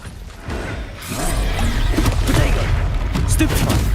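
Casting Levioso in Hogwarts Legacy's troll fight sets off a dense burst of magical impacts, crackling booms and crashes that swell after the first second and stay loud and busy throughout, with overlapping game effects.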